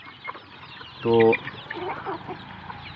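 Native desi chickens on a farm cluck, with one loud, harmonic squawk standing out in the middle and softer clucks scattered around it. A brief word of speech is heard as well.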